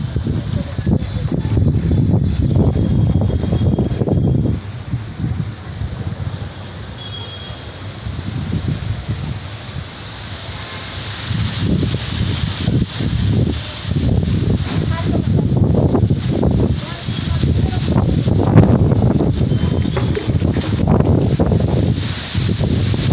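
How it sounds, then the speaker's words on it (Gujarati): Strong storm wind blowing in Ahmedabad, loud gusts battering the microphone and rustling surroundings, rising and falling in waves throughout, close and continuous. "અત્યારે લગભગ 51 કિલોમીટરની ઝડપે પવન ફૂંકાઈ રહ્યો છે અમદાવાદમાં."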